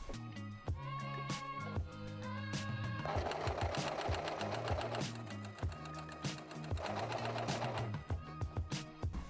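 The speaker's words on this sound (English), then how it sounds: "I'll sew a little bit so you can see how it does" Serger sewing machine stitching with polyester thread, a steady rapid mechanical whir with rhythmic clatter running continuously at close range, speeding up and slowing in bursts.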